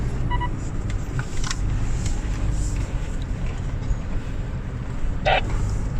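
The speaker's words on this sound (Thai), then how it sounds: "รถไฟหนึ่งคันแล้วครับ" A train rumbles steadily past on a mountain descent near Chiang Dao, Thailand, with a constant low roar and occasional higher squeals and clanks over it.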